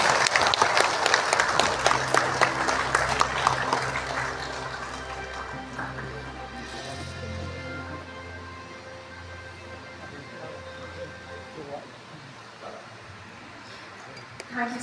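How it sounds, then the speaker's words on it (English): Applause from the audience at a state gathering addressed by a chief minister, loud at first with dense clapping that thins and fades over about ten seconds, with faint voices and room murmur underneath. "May we have a round of applause, please?"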